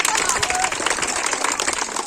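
Students at a government high school clap for Pushpraj during a school captain election result, a dense, steady patter of many hands, close and loud, with a faint voice underneath.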